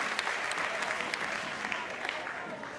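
Applause from the crowd at an A-League women's football match between Newcastle Jets and Western Sydney Wanderers after a defender's tackle, a distant wash of steady clapping with a commentator talking over it.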